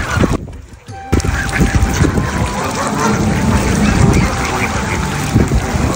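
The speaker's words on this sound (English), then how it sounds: "কত হাঁস" A large flock of raja hans geese calls by the water in a steady, dense chorus of honks and quacks under windy outdoor noise, with a brief quieter gap near the start.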